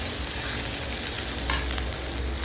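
Onions sauté in a pan for a black masala spice blend, giving a constant dense sizzle with light stirring scrapes throughout, close and fairly loud.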